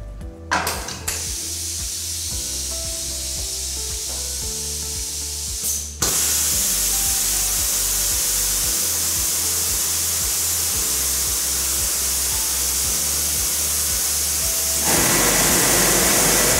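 Steam vaporization on an MPT DP2 Topper trouser finisher, a loud continuous hissing blast that starts abruptly after a few mechanical clunks and keeps going steadily, then grows slightly louder near the end.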